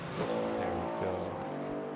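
A Cadillac race car engine in the Assetto Corsa racing game at Spa, droning steadily with rising and falling pitch through gear changes, with faint talk.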